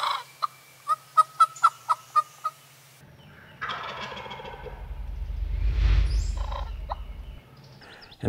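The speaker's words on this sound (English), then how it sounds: "A turkey came in strutting and gobbling" A wild turkey gobbles in a quick run of about eight sharp, loud calls close by, followed by a low rumble of outdoor noise.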